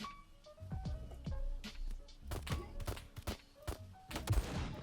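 Gunfire in the game HurtWorld pops in scattered shots and short bursts, some nearer and louder, others distant, with thuds mixed in over a low background.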